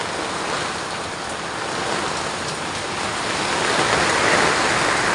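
Heavy typhoon rain pours steadily with floodwater rushing below, a dense, loud, continuous wash of water that swells slightly toward the end, with no voices.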